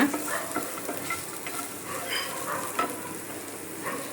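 Small oil sardines, Mangalore-style tarle bhootai, fry in a pan, giving a soft continuous sizzle with scattered crackles and occasional stirring taps, fairly quiet and without voices.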